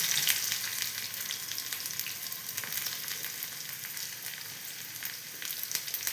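Chopped onions fry in hot oil in a pan for a Kerala chana dal erissery, giving a steady, close, continuous sizzle with faint crackles and no voices throughout.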